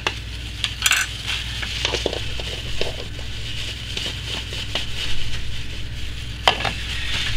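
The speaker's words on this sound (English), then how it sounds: "we're going to stir this up till it's fully incorporated" Gold mica being stirred into chai tea soap batter, with soft wet swishing and occasional clinks of a utensil against the container over a constant background hum.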